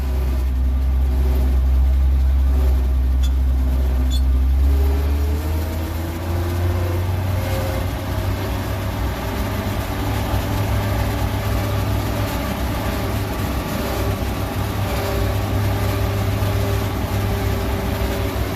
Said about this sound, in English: No, he's going to drive off on the lawn.